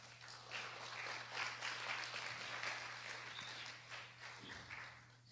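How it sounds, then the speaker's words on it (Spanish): A church congregation applauding during an evening service, a soft, distant swell of many people clapping that rises and ebbs over several seconds, with a low steady hum beneath. "Dale un aplauso al Señor."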